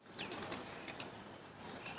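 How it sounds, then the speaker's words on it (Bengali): Pigeons come down to land, giving a close, busy flutter of flapping wings in a rough rhythm over a noisy outdoor background, with a faint short call near the start. "আল্লাহর রহমতে কবুতরগুলো এখন নামলো"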